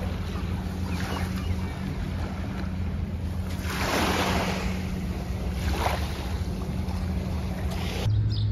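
Ocean waves wash in with broad surges of rushing water as the tide comes in, two swells cresting clearly, over steady low wind rumble outdoors at Devonport or Takapuna, Auckland.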